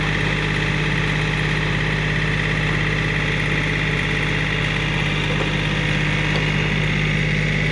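John Deere 2520 or 2025R compact tractor engine idling steadily during backhoe stump-digging work, a constant loud low rumble with a droning hum and no change in pace throughout.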